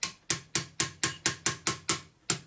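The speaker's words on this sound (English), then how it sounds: "So what I like to do is I take a little ball peen hammer," Sharp metallic taps from a small ball peen hammer striking a Harley shovelhead transmission part in a workshop, about ten evenly spaced close strikes, each ringing briefly and then decaying.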